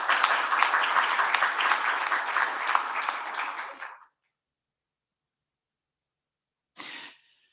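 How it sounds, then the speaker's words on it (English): Audience applause greeting Maria Klaman, Deputy Mayor of Krakow, as a panelist at an event in Poland; dense steady clapping for about four seconds that stops abruptly, followed by a brief burst near the end. "Please give her an applause."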